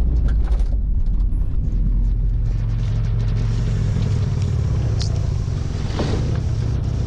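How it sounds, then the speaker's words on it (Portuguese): Old car with worn tailgate rubber driving along, a constant heavy low engine and road rumble with loose rattles and clunks over it, close and loud throughout. "Vocês me desculpem o barulho, viu, pessoal? Tampão lá atrás tá ruim a borracha."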